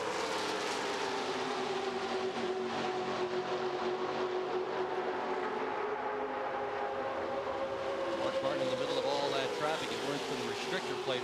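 NASCAR stock car engines running wide open around Daytona International Speedway at the 1998 Pepsi 400, a dense continuous roar of many cars droning together at steady loudness, with a faint voice underneath.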